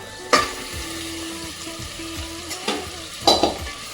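Chicken pieces sizzling in biryani masala in a hot pan, a steady crackling fry broken by a few sharp clinks and stirring scrapes, with no one talking.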